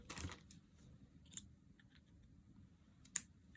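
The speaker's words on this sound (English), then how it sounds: "Trim the ends up." Scissors snip the ends of a small ribbon bow during papercraft work on an Easter treat bag, with a soft burst of cutting at the start and a sharp single snip near the end against a quiet room.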